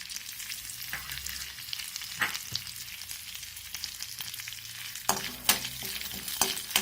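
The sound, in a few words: whole garam masala spices frying in pan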